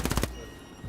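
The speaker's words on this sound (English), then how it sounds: "Sounds like an MG." Machine gun fire in the World War II shooter Hell Let Loose, a short rapid burst of four or five loud shots that ends abruptly and leaves faint ambience behind.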